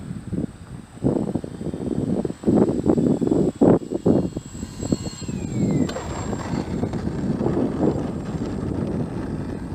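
A rebuilt RC model airplane called the Maiden comes in to land, hitting a curb. Its motor gives a steady, fairly close whine under gusty wind buffeting, with choppy louder pulses early on that settle into an even drone.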